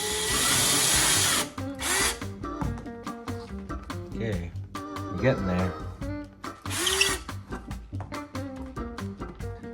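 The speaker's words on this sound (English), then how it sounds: "So we're gonna start by drilling." Power drill boring a hole into a piece of wood branch, loud and close, with a long whining burst at the start and a shorter one later, broken up by clatter and brief speech.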